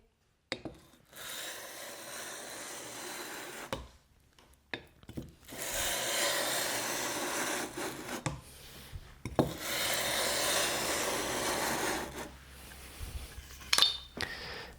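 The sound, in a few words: hand plane sole rubbed on abrasive to flatten it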